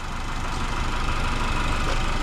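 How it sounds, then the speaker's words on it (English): The 2.0-liter four-cylinder engine of a 2020 Cadillac CT4-V AWD idles with a steady, even rumble that continues without break and with no voices. "So that's the engine."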